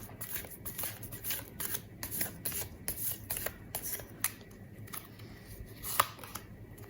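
Tarot cards handled and shuffled close up, a run of soft papery riffles and slides with a few sharper snaps, steady and fairly quiet with no talk.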